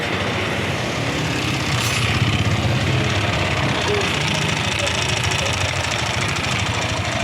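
A Yamaha NMAX scooter engine running close by with a continuous rough, rattling knock throughout, loud and steady, with a voice briefly audible underneath.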